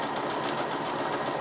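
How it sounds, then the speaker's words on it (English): A sewing machine stitching elastic thread onto fabric at the longest stitch length, a continuous rapid mechanical whir with a fast steady rattle, close and even, with no voices. "I'm going to start right on that seam line, and then I am just going to stitch."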